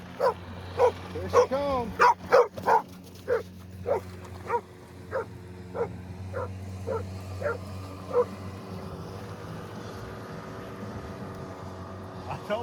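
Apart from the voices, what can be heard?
dogs playing and barking by a river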